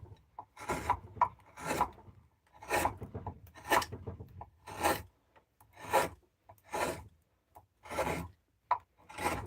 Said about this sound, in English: you can see the chisel coming down